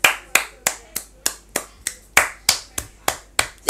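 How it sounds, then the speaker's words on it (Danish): Applause for coach Magnus comes as a steady run of single sharp hand claps, about three per second, crisp and close with nothing else under them. "Giv en klapsalve til Magnus."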